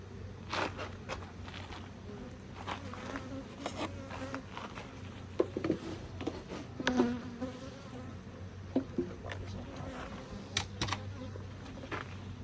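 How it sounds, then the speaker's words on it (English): Honey bees buzz around an open hive box during hive handling, a steady low drone with many close individual bees zipping past, plus light tapping and handling noises and no talking. "I'd have another box moving the bees to the side"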